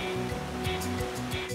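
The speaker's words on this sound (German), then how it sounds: "Chip und Chap fahren genau auf den Wasserfall zu." Rushing cartoon waterfall: a brief, steady roar of falling water with surging swells, heard alone.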